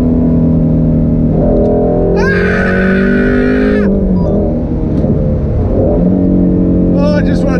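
Sports car engine revving hard to just over 8,000 RPM on a drive in Las Vegas, a loud sustained high-pitched wail with rising and falling pitch sweeps, very close and filling the whole stretch.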